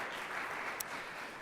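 Faint, steady applause from a forum audience at the Columbus Metropolitan Club, a soft continuous patter of many hands heard at a distance with no voices over it.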